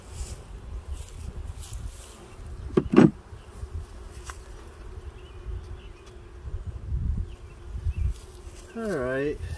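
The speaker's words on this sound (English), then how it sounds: "So you can see our bees are pretty docile." Honeybees buzzing around an opened beehive after smoking: a steady, fairly close insect hum throughout, with a few sharp knocks midway, occasional talk in the background, and one louder bee passing by near the end.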